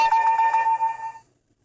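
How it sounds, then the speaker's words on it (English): Default Android phone notification tone: a single short, bright chime lasting about a second, clear and alone before fading out. "Now, let's try the default notification ringtone."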